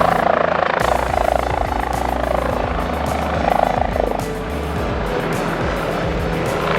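Arizona Department of Public Safety Ranger helicopter flying nearby outdoors, a steady loud rotor and engine roar with low pulsing thump that holds through the whole stretch.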